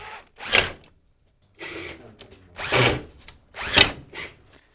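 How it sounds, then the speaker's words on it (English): A power driver sinks a screw back into a plywood boat hull under repair in four short whirring bursts with brief pauses between, close by and moderately loud. "screw that back in place"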